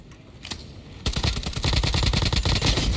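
Call of Duty Mobile gunfire in DMZ mode: a couple of isolated shots, then a rapid automatic burst of closely spaced, loud shots running steadily to the end.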